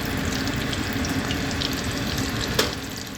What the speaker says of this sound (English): I see our oil's hot, so let's get this going. Right into the pan.